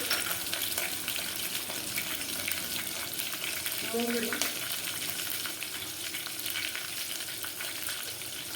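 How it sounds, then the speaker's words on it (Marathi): Green chilies and garlic frying in oil for masoor dal, a steady close sizzle and crackle with faint stirring, even and continuous. "मिरचीला मस्तपैकी आपण तेलामध्ये परतून घेणार आहोत"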